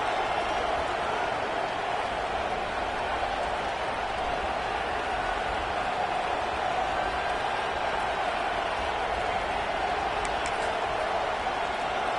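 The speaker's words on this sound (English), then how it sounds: "This crowd busting the decibel meter and trying to will a fourth down stop." Football stadium crowd roaring steadily during a fourth-down defensive stand, a dense, loud wall of cheering and noise that holds without a break for the whole stretch.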